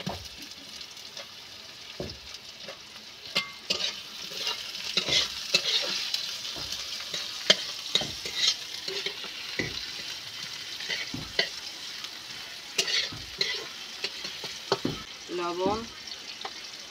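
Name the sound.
onions frying and being stirred in a pan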